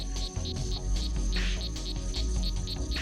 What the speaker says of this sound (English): Each male calls to summon a female